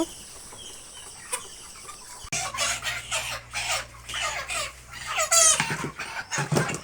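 Chickens on a poultry farm cluck and squawk in a busy, fairly loud chorus after a quiet start, with occasional sharper calls rising above the flock.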